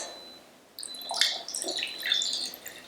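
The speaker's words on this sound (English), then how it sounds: "Pour it over the ice." Pineapple margarita poured over ice in a glass, a close, clear splashing and trickling pour with small clinks, starting after a brief quiet moment and running steadily to the end.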